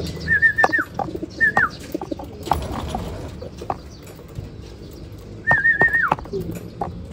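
Nearby racing pigeons arriving from a 116 km training flight give a few short whistling coos in two bursts, over a rustling, clattering background.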